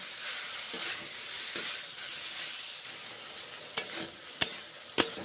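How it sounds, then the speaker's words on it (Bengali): Mixed vegetables stir-fried in a pan for a Bengali-style mixed vegetable dish, giving a steady soft sizzle and hiss, with a few sharp scraping or clinking stirring strokes near the end. "তারপর আবার কষে নিচ্ছি কষে কষে রান্না করছি"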